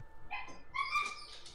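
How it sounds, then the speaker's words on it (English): Puppy whimpering in the game Cinderella Phenomenon, a few faint, high, thin whines and yips in quick succession, soft and alone against a quiet background. "there's a pup whimpering"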